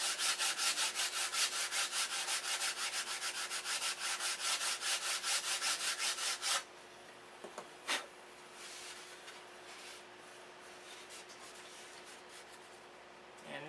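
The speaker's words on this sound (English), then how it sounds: "just take a block and kind of sand out the saw marks" A hand-held sanding block rubs wood to smooth out saw marks on an aircraft fuselage part, a dense steady back-and-forth rasp for about six seconds, then lighter scattered scrapes and a faint hiss.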